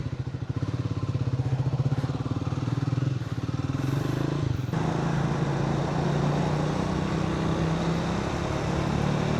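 A Triumph Speed 400 motorcycle ridden at night through Bangalore, its engine droning steadily and close, with a brief shift in pitch partway through and constant wind and road rush.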